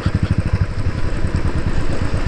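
A motorcycle engine chugs in a fast, even rhythm on an off-road bike ride, a close, rough mid-pitched throb of pulses with no talking.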